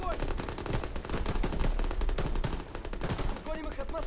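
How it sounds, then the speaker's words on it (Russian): Sustained machine gun fire in the World War II shooter Call of Duty WWII, rapid continuous bursts of gunshots with dense battle noise throughout. "Пулемет, открыть огонь!"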